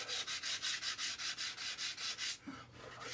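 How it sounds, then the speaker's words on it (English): Worn emery cloth polishes a Caterpillar Cat60 engine cylinder by hand, making a quick, regular back-and-forth rasping of about ten close strokes before it stops. "Now I'm finishing up polishing with some fairly worn out emery cloth."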